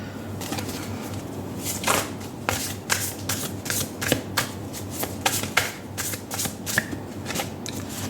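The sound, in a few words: tarot cards being shuffled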